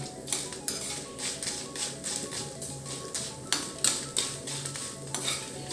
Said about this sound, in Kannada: ಇವಾಗ ಇದನ್ನು ಹುರಿಯೋದಕ್ಕೆ ಒಂದು ಸ್ಪೂನ್ ಎಣ್ಣೆ ಕೂಡ ಸೇರಿಸ್ಕೊಳ್ತಾ ಇದ್ದೀನಿ ಎಲ್ಲದನ್ನು ಒಟ್ಟಿಗೆ ಹುರ್ಕೊಂಡ್ಬಿಡೋಣ